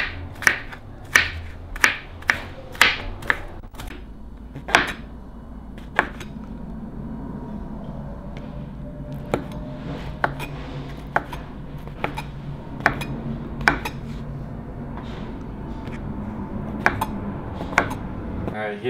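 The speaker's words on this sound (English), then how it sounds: "we're dicing up the cabbage into fine slices" A knife dices cabbage into fine slices for veggie egg roll filling, chopping crisply against a board in quick bursts of sharp, close strokes with short pauses between them.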